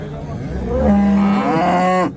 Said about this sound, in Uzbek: mana sigir hozir kirdi